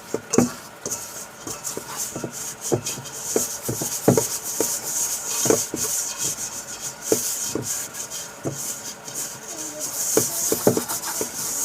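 Vegan pizza dough being kneaded by hand on a wooden cutting board, a steady run of soft rubbing, slapping and pressing sounds up close, with no talking.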